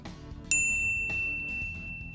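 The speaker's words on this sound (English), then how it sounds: "ring the bell to be notified about our latest videos" A notification bell sound effect rings once with a bright, clear ding that sustains and slowly fades, with no talk.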